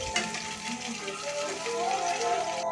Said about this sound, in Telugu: ఆయిల్ వేసుకొని బాగా ఫ్రై చేసుకోండి.